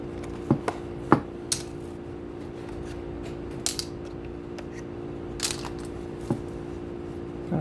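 Clamps being removed from a glued workpiece in a workshop: scattered sharp metallic clicks and clanks, a few at a time with pauses between, over a low steady hum.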